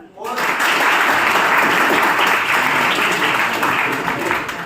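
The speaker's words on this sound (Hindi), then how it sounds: "तो बालाजी गवर्नमेंट क्लासेस के लिए तालियां बजाएं।" An audience at a job and computer classes event bursts into applause, a dense, loud wash of clapping that rises quickly and holds steady to the end.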